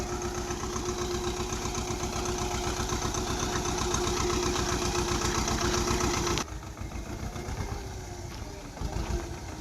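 A Swaraj 724 tractor engine runs steadily with a rhythmic diesel chug, powering a pesticide spray pump in a field, then drops abruptly to a lower, rougher idle near the end.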